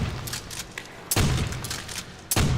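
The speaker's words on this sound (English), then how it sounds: "The trench gun is actually one of my favorite shotguns in zombies." Trench gun shotgun blasts in Call of Duty: World at War Zombies, two loud booming shots about a second apart over a steady busy game background.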